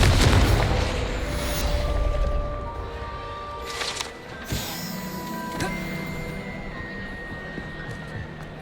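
A Confringo blasting spell explodes in the Hogwarts Legacy video game, a loud burst with a boom right at the start, then the blast fades into a busy game soundscape with a few smaller pops and thuds.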